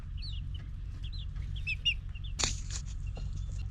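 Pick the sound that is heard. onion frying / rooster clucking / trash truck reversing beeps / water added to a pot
rooster clucking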